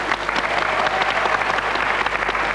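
A studio audience on a French TV game show applauds a contestant, with brisk, even clapping that carries strongly through a short burst.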